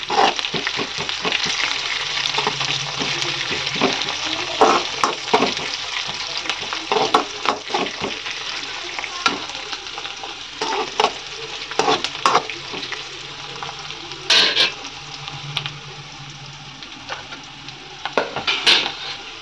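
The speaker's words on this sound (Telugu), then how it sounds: "బాగా గోల్డెన్ కలర్ వచ్చేదాకా బాగా వేగాలి." Shredded cabbage sizzles steadily in hot oil in a pan with curry leaves, with repeated scraping and clattering stirs of a utensil against the pan over about twenty seconds; no talking.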